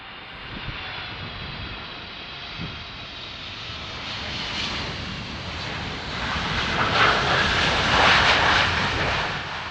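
A Boeing airliner landing in windy conditions gives a loud, continuous roar of aircraft engines and rushing air, swelling louder toward the end, with no voices.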